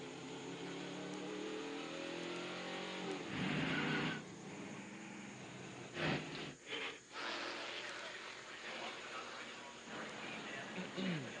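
NASCAR race cars running under caution at Richmond International Raceway during the 2000 Hardee's 250, a steady engine drone with a few louder passes, heard beneath broadcast commentary.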